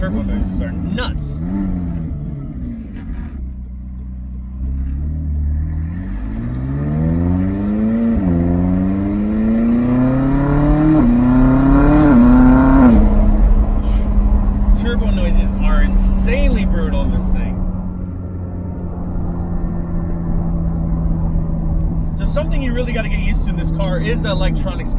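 A McLaren 600LT drives with rising turbo whooshes and whistles as revs sweep upward, then settles into a steady cruising drone, with an occasional faint flutter, heard from inside the car.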